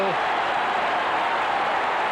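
A football crowd roars steadily after a Crystal Palace goal against Chelsea, a broad, loud, sustained wash of cheering filling the whole stretch without a break.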